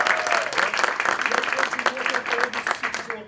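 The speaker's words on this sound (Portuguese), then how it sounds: "Então mais uma salva de palmas para ela." An audience at a public-speaking symposium applauds a speaker with lively, fairly close clapping for several seconds, while voices and cheering come through underneath.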